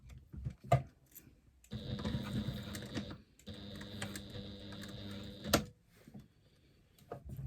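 A sewing machine stitches a bag seam in two steady runs of whirring, each a few seconds long, near and moderately quiet, with brief clicks and handling noises before and after.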